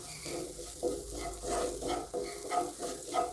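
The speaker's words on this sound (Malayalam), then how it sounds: "അതിൻ്റെ ആ ഒരു പച്ചമണം മാറുന്ന വരെ ഒന്ന് ഇളക്കി കൊടുക്കാം." Spice powders for chickpea curry fry in a pan while being stirred, giving repeated soft scraping strokes over a gentle, quiet sizzle.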